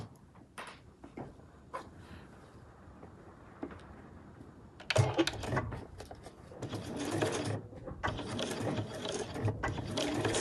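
A sewing machine stitches the front panel of a backpack. Quiet, scattered mechanical clicks give way to loud, steady whirring runs of stitching in the second half, with only short pauses between them.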